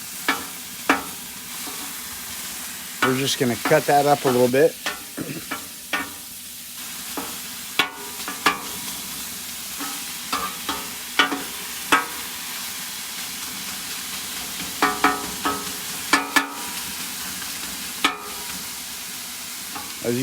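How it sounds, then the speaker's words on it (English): Taco meat frying in a pan gives a low, steady sizzle, broken by sharp scraping and clacking as a utensil stirs and chops it; a voice talks briefly over it. "Can you hear that sizzle?"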